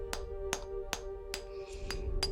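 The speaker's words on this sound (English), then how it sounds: "We shall use the hammer and chisel." A hammer drives a chisel into a stone wall with six or seven sharp, ringing metallic strikes at an even pace, each leaving a held tone.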